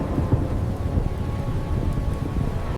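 Steady rain falls under a deep, rolling thunder rumble that holds through the whole stretch, fairly loud and close, with some wind and no voices.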